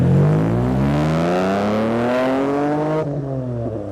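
At a car meet, a Pontiac GTO engine revs up loud and close, its pitch rising smoothly for a few seconds before the throttle eases off.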